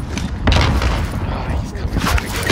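A grenade explosion in a shooter video game bursts as a dense, loud boom with scattered gunfire, continuing through the whole stretch under ongoing game noise and voices.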